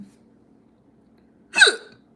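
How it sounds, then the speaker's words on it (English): A single sharp hiccup from a person, a short voiced catch that rises out of near silence and fades quickly, close to the listener with no talking around it. "I got the hiccups."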